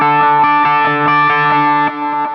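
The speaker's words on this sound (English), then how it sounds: "It's more of a pad kind of sound. This is an unremarkable patch." A pad-style guitar patch sustains a loud, smooth, chorus-washed chord with slow swelling pulses, ringing steadily throughout and dipping slightly near the end, with no voices.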